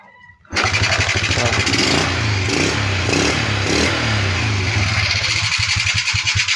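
A Kawasaki Fury 125 motorcycle, after a fuse box fix, starts abruptly from quiet and settles into a loud, steady, close running idle with even rapid pulsing throughout.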